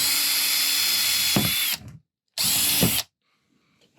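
Power drill boring a hole for an air line through a container for a deep water culture hydroponics setup: two loud, close bursts of steady high whirring, each ending abruptly, with silence between and after, no talk.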